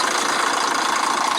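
An old coach's 9.6 litre turbocharged Volvo diesel engine idles with a steady, loud, close rumble and a constant mechanical clatter, with no voices.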